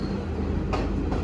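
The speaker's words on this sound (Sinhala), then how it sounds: "අපි යන්න හිටපු ට්‍රේන් එකත් මිස් වුණා" A train pulls away from a station in Sri Lanka with a steady, loud rail rumble and rolling wagon noise, joined by a couple of brief metallic squeal bursts near the end.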